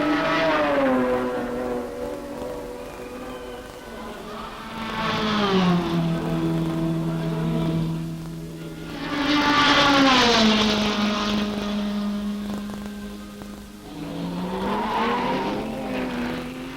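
Race cars at the 24 Hours of Le Mans, including an Alfa Romeo, a 5.5-litre Iso Revolta and a Ferrari, roar past one after another. Loud engines rise and fall in pitch as each car passes.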